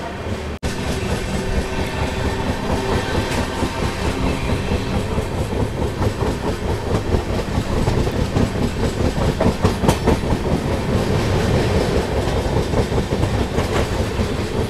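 Passenger train running on rails near Ahmedabad, a steady loud rumble with clickety-clack of wheels over rail joints, continuous from start to finish with no talk.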